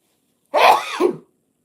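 A single sharp sneeze bursts out close and loud, a quick two-part blast lasting under a second, with silence before and after.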